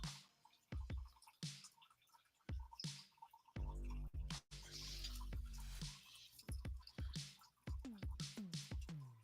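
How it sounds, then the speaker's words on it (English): Water runs and drips out of a campground hot-water coffee maker, with a steady pouring stream and scattered drips and splashes close by, fairly loud and continuous over several seconds. "they hear the water running out of the coffee pot"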